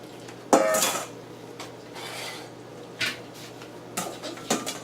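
A large kitchen bowl is taken out and handled, giving a few sharp clanks and ceramic knocks spaced across the moment, close and clear in a quiet kitchen.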